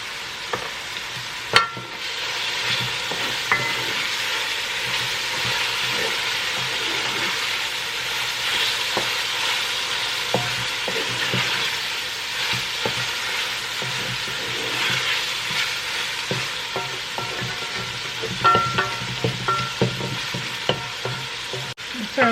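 Saltfish frying with black pepper in a pan for a Jamaican patty filling: a steady, close sizzle runs throughout, with occasional scrapes and stirring clatter and a couple of sharp utensil knocks on the pan.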